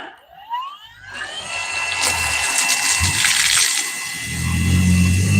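A Mellif pole pump runs while draining water, giving a steady loud motor hum over rushing, gushing water that builds and holds continuously after a brief quieter start.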